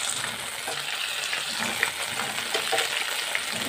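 Hilsa fish paturi wrapped in leaves fries in a pan with a steady crackling sizzle, scattered pops and bubbling heard up close and without any talk.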